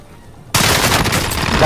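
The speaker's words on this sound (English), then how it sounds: "I'm under fire" Gunfire in Call of Duty Warzone erupts suddenly after a quiet moment, a loud dense burst of rapid shots that continues without a break to the end.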